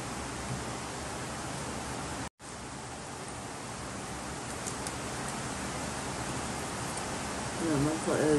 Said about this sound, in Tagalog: Kasi kagabi pa umuulan.